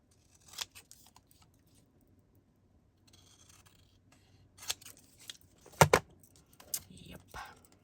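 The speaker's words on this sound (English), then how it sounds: "if I trim this down a little bit more" Scissors snip a small fabric scrap in a few quick, quiet cuts, close to the listener, with light rustling of cloth between the snips.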